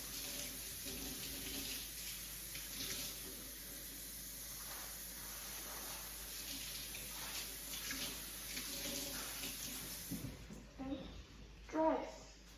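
Running tap water splashes and rinses a small glass test tube, a steady close hissing flow for most of the time, then stopping with a few brief handling clunks near the end.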